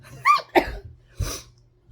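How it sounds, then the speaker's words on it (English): A person sneezes close up, a sharp voiced burst followed by a second, then a breathy sniff or exhale about half a second later, with no talking. "here I am sneezing my butt off"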